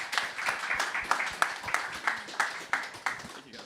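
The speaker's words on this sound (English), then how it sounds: "so big round of applause for everyone here" Audience applause at a tech conference stage session, a moderately faint, even patter of many hands with regular louder bursts, heard at a distance across the room.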